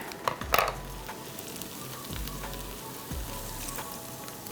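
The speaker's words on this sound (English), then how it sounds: "Now I'm going to sprinkle in my Szechuan peppercorns and add my coconut milk." Coconut milk hits a hot pan of peanut noodles, broccolini and Szechuan peppercorns, giving a soft, steady sizzle broken by a few stirring scrapes and knocks.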